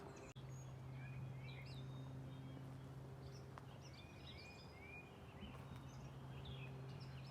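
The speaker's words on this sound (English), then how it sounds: "those are the sounds of birds from this morning, right now" Birds sing in the morning around a house yard, with scattered faint chirps and whistled calls at a distance over a constant low hum.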